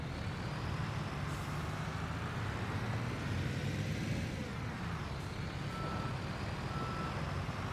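Truck reversing beeps in Construction Simulator during roadwork at a housing estate, a steady electronic beep over a loud rumbling engine with a hiss of air brakes, no talk.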